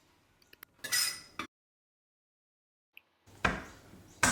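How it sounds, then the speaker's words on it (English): A knife chops celery into small pieces on a cutting board in a kitchen, with a few clicks and then two short bursts of crisp chopping separated by silence. "So now we're chopping up the celery into small pieces"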